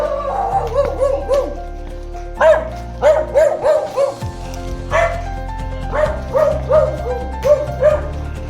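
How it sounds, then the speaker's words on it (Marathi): Repeated dog barks in short bursts, several quick yips clustered together with brief pauses between, fairly close and loud. "कुत्र्याने आमचं स्वागत केलं आहे"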